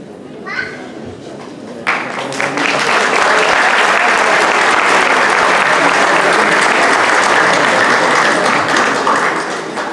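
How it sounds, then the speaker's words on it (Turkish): An audience at a Turkish music choir concert in Izmir breaks into loud, sustained applause after a brief spoken line, a dense wall of clapping that fills the hall until the end. "Alkışlarla."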